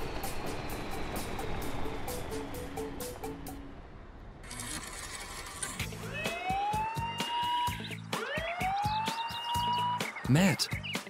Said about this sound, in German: Ja, ihr solltet die Streifenwagen rufen.